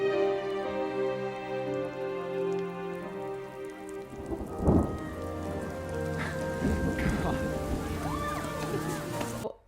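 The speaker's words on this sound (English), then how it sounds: "they are caught in the rain when they were about to actually kiss." Steady rain pours on surfaces in a romantic-comedy film scene, with a low rumble of thunder rising near the middle, while faint voices and music sit beneath the constant downpour.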